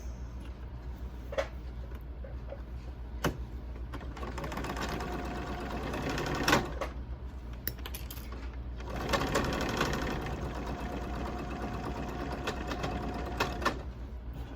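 A sewing machine runs steadily while stitching a border onto a quilt, a fast even mechanical chatter with brief pauses and speed changes, close and alone.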